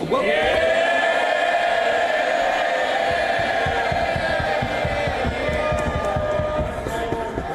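Members of Parliament in the House of Commons cheer and roar as one loud crowd at Prime Minister's Questions, with a sustained wall of voices and rapid thumping beneath it.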